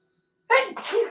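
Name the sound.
sneeze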